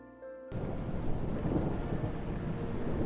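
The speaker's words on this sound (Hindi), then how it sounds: "बारिश रुकने का नाम नहीं ले रही थी।" Heavy rain with thunder in a forest, a dense loud downpour that bursts in abruptly and continues as a steady roar with a low rumbling undertone.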